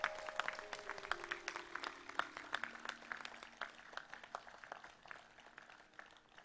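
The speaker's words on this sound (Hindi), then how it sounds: "आचार्य जी के लिए जोरदार ताली ठोको।" An audience claps for Acharya ji at a spiritual discourse gathering, with scattered, uneven hand claps that sound faint and distant. They continue for several seconds and thin out gradually toward the end.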